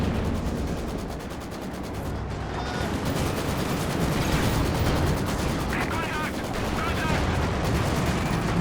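Dense battle din from a Company of Heroes 2 match as a Katyusha rocket barrage lands, with continuous overlapping blasts, crackling fire and rumbling explosions, loud and sustained throughout.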